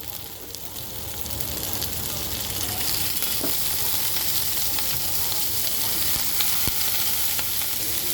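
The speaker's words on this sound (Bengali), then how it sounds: "এখন আমি এর মধ্যে দিয়ে দেব আলুগুলো এই আমি দিয়ে দিলাম কেটে রাখা আলুগুলো" Sliced potatoes sizzle steadily in a pan of oil with already fried onions, a close, even crackle that builds after the first second and holds, with occasional stirring scrapes.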